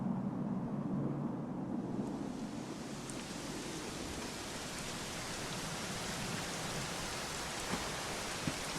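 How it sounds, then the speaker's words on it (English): Video game rain in Dragon Quest XI falls in a dense, even hiss with a few louder drops ticking through near the end; no voices. "it was raining like this"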